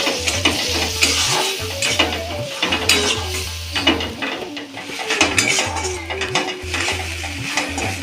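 A spice paste with turmeric and a splash of water being sautéed in a pan, with loud repeated scraping stirs of a metal spoon against the pan over a continuous sizzle, no talking.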